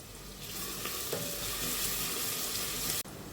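Onions with a little salt sauté in oil in a pressure cooker for veg kurma, giving a dense close sizzle with stirring scrapes that cuts off abruptly near the end.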